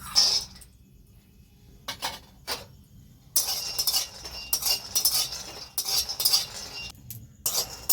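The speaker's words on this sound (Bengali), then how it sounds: "এবার আমি চীনা বাদামটা ভেজে নেব" Peanuts dry-roasting in a pan, stirred with a utensil, giving scattered scraping and clinking bursts that come and go, close and fairly quiet, with no talking.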